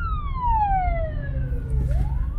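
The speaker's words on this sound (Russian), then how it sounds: "Точно скорая. Пытаемся пропустить." An ambulance siren wails with a falling, descending pitch over steady low traffic rumble, then its tone shifts and starts rising again near the end.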